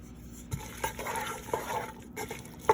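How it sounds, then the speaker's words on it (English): Two heads of chopped onions sautéing in a pan, a soft sizzle under intermittent stirring clinks and scrapes of a utensil against the pan, close and fairly quiet. "now I'm going to saute the onions"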